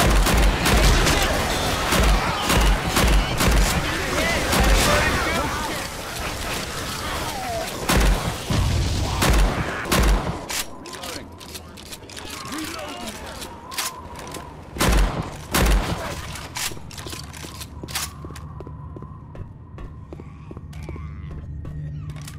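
Gunfire in Left 4 Dead 2, with loud shots in quick rhythmic volleys early on, then scattered bursts and booms thinning out later, and occasional game voices in between.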